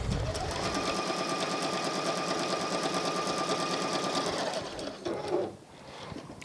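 A sewing machine stitches quilt pieces, sewing along either side of a marked line in one continuous, fast, close-up run before slowing and stopping, followed by light handling noise.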